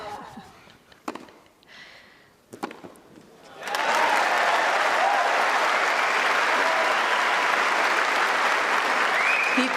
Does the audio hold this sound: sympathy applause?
yes